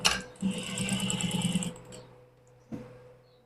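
A sewing machine runs in a steady fast burst while stitching the edge of a sleeve placket, then stops, followed by a brief knock of handling the fabric; close and fairly quiet, no talk.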